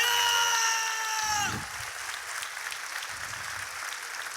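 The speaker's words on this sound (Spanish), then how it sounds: "ustedes han aplaudido este grito de guerra que ha dado" A theater audience bursts into applause after a gladiator's war cry at a staged gladiator combat show, clapping loud and dense at first, then continuing as a steadier, slightly softer wash of hands.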